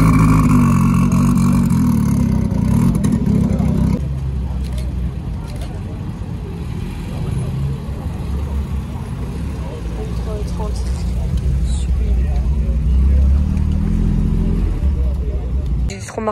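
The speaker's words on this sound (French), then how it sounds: "Échappement libre." A rare Jarry Turbo 2 car with a straight-pipe exhaust rumbles loudly and continuously, its deep engine note shifting as it idles and revs at a car meet, with voices talking over it.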